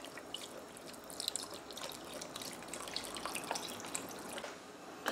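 Beef broth poured into a cooking pot gives a steady liquid splash and trickle with scattered drips, continuous and fairly close, with no talk.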